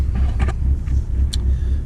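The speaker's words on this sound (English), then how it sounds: "You can hear she's loping now." Dodge Neon SRT-4 engine idling with a loping idle, a low, uneven rumble pulsing under gusts of wind noise for a brief moment.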